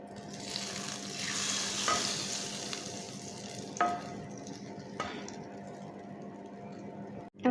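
A hot chili tempering is poured over spinach dal and sizzles steadily and fairly close, a bright crackling hiss broken by a few sharp pops and ending with a clatter.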